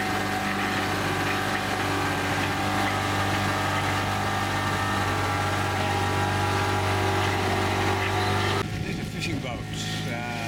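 A motorboat engine in Cochin, India, drones steadily throughout with a constant low hum, loud and close, then the tone shifts near the end.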